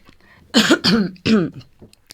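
Three harsh, close coughs in quick succession, loud and raspy, with a short quiet pause before the last one.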